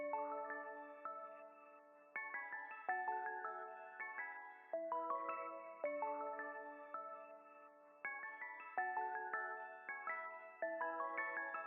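Bright synth bell tones pitched up an octave play a steady, evenly spaced melodic pattern, each note striking sharply and decaying with a shimmering tail, soft and alone with no voices.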